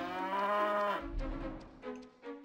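A cow moos in the PlayStation game Xena: Warrior Princess, one long low drawn-out bellow followed by a few shorter grunting calls, clear and alone.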